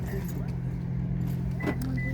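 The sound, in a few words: car keys jangling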